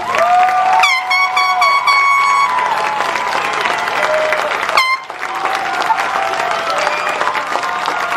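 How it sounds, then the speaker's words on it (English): A graduation ceremony crowd applauds and cheers loudly and steadily for the graduates, with a couple of blaring air horns cutting through near the start and again briefly midway. "Let's have a round of applause for our fourth row graduates."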